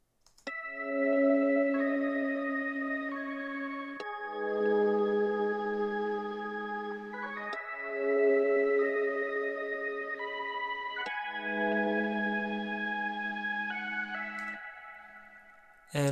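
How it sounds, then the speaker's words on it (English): Soul Sacrifice organ preset from Analog Lab playing slow sustained chord changes roughly every few seconds, smooth and steady at moderate level with no other sounds. "is the organ, and it's called Soul Sacrifice from Analog Lab."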